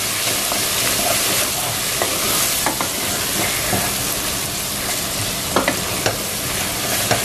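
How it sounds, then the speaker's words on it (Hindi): A spice masala with tomatoes and turmeric fries in a pan for a long-bean curry, with a steady loud sizzle and scattered clicks of stirring throughout, and no voices. "अब हमें इस मसाले को तब तक भूनना है जब तक के जो टमाटर है वो सॉफ्ट हो जाए।"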